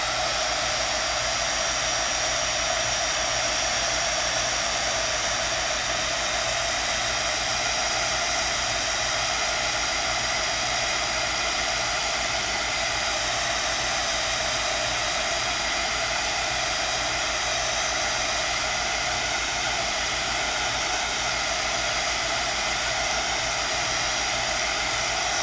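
Heat tool blowing hot air to dry Copic Acrea marker ink on Grafix Dura-lar film, a loud, steady broadband whoosh with a low motor hum running unbroken throughout, with no talking.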